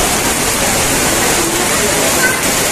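Floodwater rushing after heavy rain in a countryside village yard turned into a river, a loud, constant roaring wash of water with no breaks.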